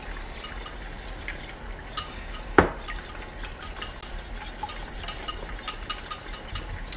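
Eggs being scrambled in a pan, with continuous soft sizzling under repeated scraping and stirring strokes of a utensil and one sharp clink against the pan, close and fairly quiet.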